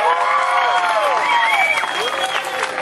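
Audience applause at a live alligator show, a steady wash of clapping with some crowd noise, while a showman's amplified voice carries over it with sweeping, melodic intonation.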